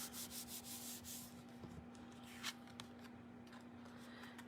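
Paper card being rubbed during card making, a quiet continuous scrubbing with a few soft taps, close and alone with no talk.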